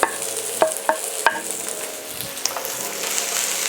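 Onions cooking in olive oil in a pan for black bean tacos, a soft steady sizzle broken by a few sharp clinks and stirring knocks early on, with no voices.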